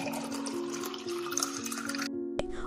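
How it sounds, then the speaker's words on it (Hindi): Water poured into milk at a tea stall, a steady liquid stream filling a vessel that stops abruptly near the end, followed by a brief clink. "रामू चोरी छिपे दूध में पानी मिलाता है"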